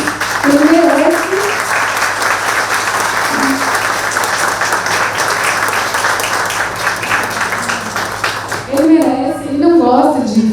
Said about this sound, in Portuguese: eu queria chamar o Felipe aqui agora para ganhar uma salva de palmas de todos vocês